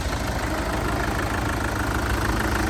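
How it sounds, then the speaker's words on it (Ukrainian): A Kia Sorento SUV engine idles steadily up close, a smooth continuous low rumble with no voices or other sounds. "Мотор працює чітко"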